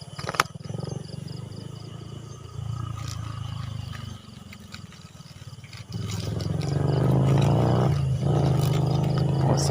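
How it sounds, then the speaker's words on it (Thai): Vehicles pass on a nearby road: a low engine rumble drones at first, dips, then swells louder and fuller in the second half as traffic goes by close at hand, with a few faint clicks and no clear talking. "รถก็ดัง"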